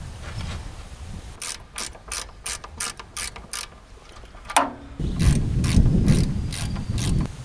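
Ratchet wrench clicking as bolts are tightened on a vehicle axle during a roadside repair, a rapid run of sharp ratcheting bursts followed by a louder, denser stretch of cranking, close up.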